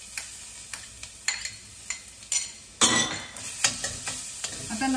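Sprouted fenugreek and ground garlic sizzling in a pan for a snake gourd curry, a steady fry hiss broken by repeated sharp clinks and scrapes of a spoon stirring against the pan, with no talking.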